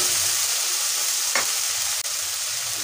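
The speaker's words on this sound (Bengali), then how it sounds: "মশলাটা একটু ভালো করে কষিয়ে নেব।" Spice paste for an egg curry sizzles steadily in a hot pan, a constant bright frying hiss broken by one brief spatula scrape and a faint click, with no voices.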